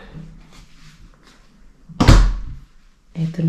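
An interior door leading to the dining area of a house in Germany closes with one close, solid thud, followed by quiet room sounds.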